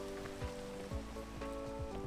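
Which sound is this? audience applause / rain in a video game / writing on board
rain in a video game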